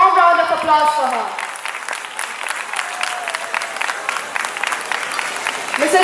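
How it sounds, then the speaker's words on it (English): Sustained audience applause fills a formal honouring ceremony, dense, steady clapping from a crowd that starts loud and stays fairly even throughout, with faint voices underneath. "Please give a warm round of applause for her."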